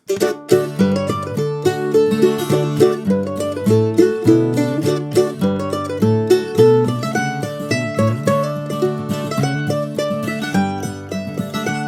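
Quick, bouncy Irish polka John Ryan's Polka picked on a mandolin, crisp tremolo-edged notes driving a brisk 2/4 pulse, played solo and up close.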